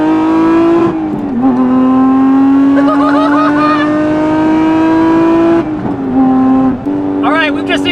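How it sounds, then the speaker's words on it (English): A Lotus Emira fitted with a full free-flow header exhaust and valved system drones loud and close at steady revs, dipping briefly twice, while voices talk over it. "The full exhaust is installed and you can hear already how insane this thing"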